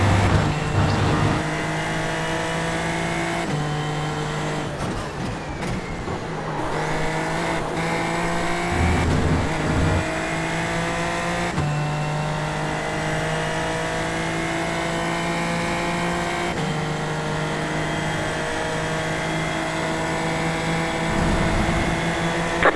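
Super Formula Lights race car at Road America in the iRacing sim, a loud close engine howling through gear changes, rising pitch on acceleration with sharp shifts and dips under braking, continuous with brief tire squeal.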